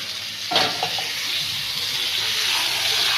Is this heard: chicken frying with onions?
yes